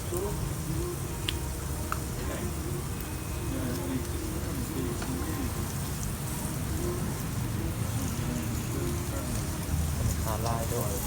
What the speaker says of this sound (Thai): บรรยากาศดีฝนตก